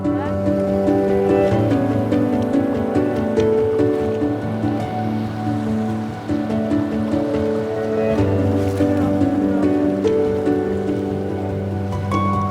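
Water sloshing and splashing as people wade on foot across a river in rural Indonesia to reach bamboo on the far bank, steady and close under a narrating voice and background music.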